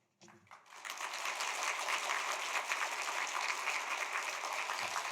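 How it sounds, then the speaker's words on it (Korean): A church congregation at a New Year revival service breaks into warm applause to welcome the pastor, swelling quickly and then holding as steady, moderately distant clapping. "큰 박수로 환영하도록 하겠습니다"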